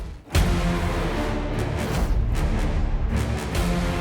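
Synthesized mock-up of an orchestral action trailer piece: dense, loud and continuous, with heavy low-end hits and bright percussive bursts recurring through the texture, and no voices.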